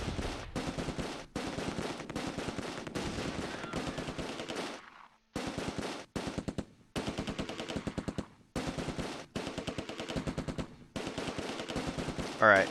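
Machine gun fire from the World War II strategy game Close Combat II rattles in rapid, loud bursts, broken by brief pauses of silence.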